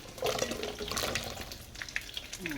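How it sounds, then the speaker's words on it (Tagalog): Vegetables such as string beans, eggplant and okra dropped into a pot of boiling water for a Filipino bulanglang stew: splashing and bubbling liquid sounds with a few light clinks, moderately close, no talk. "Ilalagay natin doon na dahil kumukulo na yung tubig."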